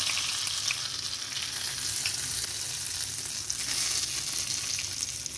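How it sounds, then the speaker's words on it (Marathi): Ghee tadka sizzles steadily in a pan for Rajasthani dal, a continuous close hiss of hot fat with crackly spits and no voices. "मी तडका घालून घेते"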